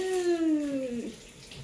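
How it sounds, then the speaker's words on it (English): Water from a tap turned on full into a container holding vinegar-soaked eggs, making a loud gushing rush with a falling tonal squeal for about a second before it trails off. "And I'm going to turn on the water. I'll make a big sound with the water."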